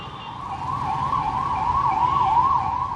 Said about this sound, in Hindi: एम्बुलेंस भाग रही है।